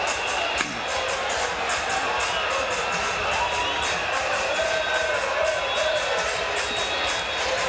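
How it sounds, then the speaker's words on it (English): A large stadium crowd cheers and roars continuously at Nyayo Stadium during an athletics meet, a dense, steady wall of excited voices with scattered whoops and shouts throughout. "Crowd here at the Nyayo Stadium, very, very excited"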